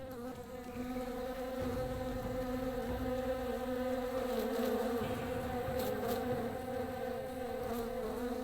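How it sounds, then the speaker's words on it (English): Swarming bees in the fantasy role-playing game Two Worlds 2: a continuous, close droning buzz with layered humming tones that holds steadily throughout, no voices over it. "Just in case you get cornered by the bees again."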